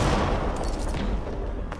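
Heavy rocket-launcher-style weapon firing in the video game Control, a dense sustained blast of booming, rumbling gunfire that stays loud and close for the whole moment with no quiet gaps.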